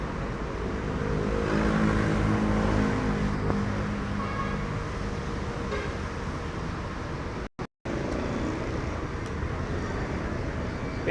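Peñafrancia Volvo executive bus with its engine running at a roadside stopover, a steady low rumble with passing traffic, continuous and fairly near, briefly cut out near the end.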